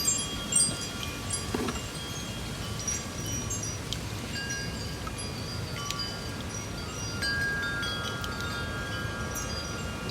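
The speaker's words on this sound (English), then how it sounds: "Lots of wind" Outdoor wind gusts buffet the microphone during succulent propagation, a low rumbling roar that stays fairly even with a few stronger bursts near the start and scattered small clicks.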